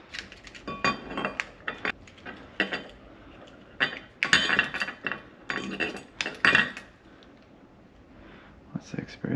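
An AMSEC ESL10 electronic safe lock that has stopped turning gives sharp, irregular mechanical clicks and clattering while keys are pressed, with people talking nearby between the bursts.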